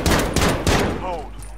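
Rapid gunfire from a Call of Duty match, a burst of several close, loud shots in the first second, then quieter game sounds with a brief voice-like sweep.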